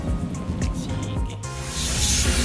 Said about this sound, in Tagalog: spray tayo ng contact cleaner para dito sa ating ilalim sa pinaglagyan ng oil pan